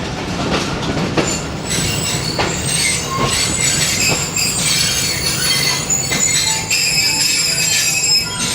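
Passenger train rolling into Lahore railway station, loud and close, with metallic wheel squeals, rhythmic clickety-clack over rail joints and a steady rumble throughout.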